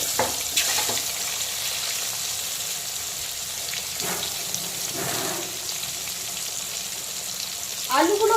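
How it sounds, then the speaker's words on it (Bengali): Potatoes frying in oil left over from frying tangra fish give a steady, moderate hiss in a pan, with a few knocks and a louder clatter near the end. "তো এখন আমি ট্যাংরা মাছ ভাজার তেলেই একে একে আলু পটল আর কাঁচকলাগুলোকে ভেজে নেব"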